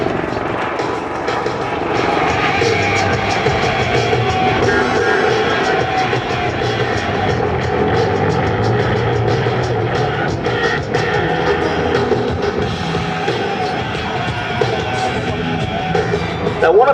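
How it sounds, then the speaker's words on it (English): A Eurocopter EC130 helicopter with an enclosed tail fan performs a flying display at the 2010 Singapore Air Show, its rotor and turbine roar steady and loud throughout, with distant crowd and commentary underneath. "Demonstrating that the EC130 V4 not only is a luxurious ride, it's a flexible and maneuverable aircraft as well"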